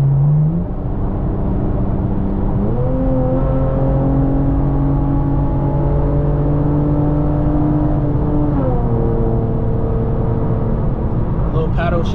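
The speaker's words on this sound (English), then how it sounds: "Little paddle shifter action." A Chevrolet Camaro accelerating on a late-night highway, its engine droning loud and close from inside the cabin as the pitch climbs, drops sharply at paddle-shifted upshifts, then climbs again.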